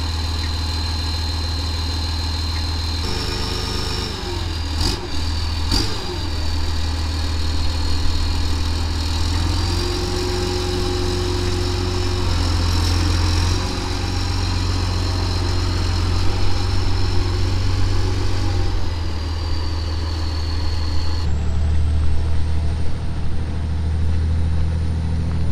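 A repaired motor grader's diesel engine runs and drives, a loud steady low rumble with a droning tone and a few clanks near the start, close by and without talking.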